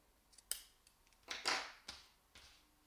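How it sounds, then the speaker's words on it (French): Scissors snip yarn ends close on a knitted headband, a few sharp, separate cuts spread over a quiet moment, close and fairly soft, with no talking. "et on coupe à ras."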